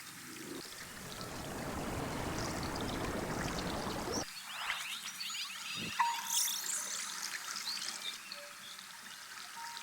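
Water pours and streams steadily in the video game Seasons After Fall, a rushing flow that cuts off abruptly, followed by sparse drips, splashes and chimes.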